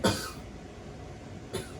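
A person gives two short coughs on request, the first a little louder than the second, about a second and a half apart, close and alone against a quiet room.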